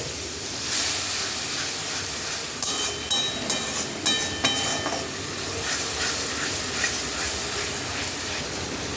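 Water poured into a hot pan of frying onion-and-tomato masala hisses and sizzles steadily, with a few sharper crackles and bubbling bursts partway through, close and fairly loud with no talking.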